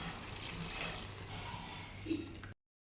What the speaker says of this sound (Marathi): रश्श्याची बनवायची असल्यामुळे यामध्ये मी आता पाणी घालत आहे